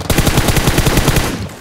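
A loud, close burst of rapid automatic gunfire in PUBG Mobile, about fifteen evenly spaced shots fired in quick succession, no speech.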